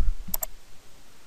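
A computer mouse button clicked twice in quick succession while running a circuit simulation in OrCAD PSpice, sharp and close, followed by near silence.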